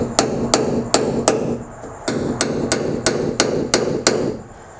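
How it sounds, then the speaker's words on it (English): Using a hammer substitute, someone strikes a center punch against the hood of a Toyota Tacoma, giving sharp metallic taps in two steady runs of four and six, close and ringing, with no voices. "you want to go ahead and get a center punch and a hammer"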